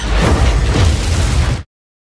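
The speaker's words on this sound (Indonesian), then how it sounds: "si Mina yang masih pengen lanjut ke tembakan keempatnya" A single loud, broad blast that fills the first second and a half, then cuts off abruptly to silence.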